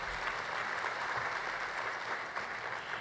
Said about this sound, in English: Give yourselves applause.